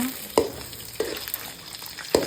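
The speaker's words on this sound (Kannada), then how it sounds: "ಒಂದು ಬಾಣಲಿಗೆ ಸ್ವಲ್ಪ ಎಣ್ಣೆ ಹಾಕಿ ಎರಡು ಸ್ಪೂನ್ ಎಣ್ಣೆ ಆಮೇಲೆ ಎರಡು ಮೊಟ್ಟೆಯನ್ನು ಹಾಕಿ" Two eggs frying in a couple of spoons of oil in a pan, a soft sizzle broken by a few sharp scrapes of a spatula, close and brief with no voices.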